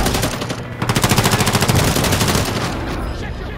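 Rapid automatic gunfire in Call of Duty Modern Warfare 3, loud sustained bursts of shots with a steady rhythm during a house fight, fading slightly toward the end.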